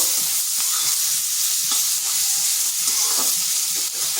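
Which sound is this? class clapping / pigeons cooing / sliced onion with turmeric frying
sliced onion with turmeric frying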